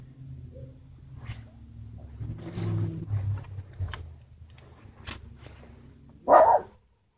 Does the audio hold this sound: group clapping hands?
no